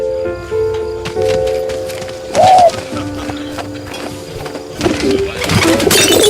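A pigeon coos in the World War I game 11-11 Memories Retold, its soft burbling call rising briefly over ambient game sound, clip-clopping horse hooves and faint background voices.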